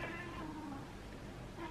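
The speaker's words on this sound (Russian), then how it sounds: "Проснулась кошечка." A house cat meows softly indoors, a faint, drawn-out call or two heard over a low background hum.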